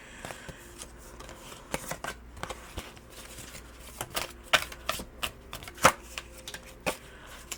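A tarot deck is picked up and handled, with close, crisp card riffles, slaps and shuffling taps in irregular bursts over a quiet background and no talk.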